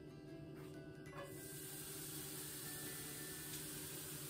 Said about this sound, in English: I'm gonna add them to the pan and I'm gonna sprinkle a little bit of salt on top